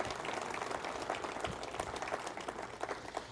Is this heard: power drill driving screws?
no